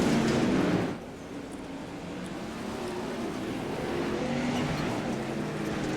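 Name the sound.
race cars lapping the high side of a dirt speedway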